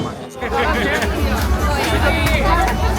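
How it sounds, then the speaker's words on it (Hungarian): Dense crowd chatter and overlapping voices fill a busy Bangkok market, a steady babble of many people talking at once with no single voice standing out, close and continuous throughout. "És így délután fél egyre azért megérkezett a tömeg is, kezd benépesülni."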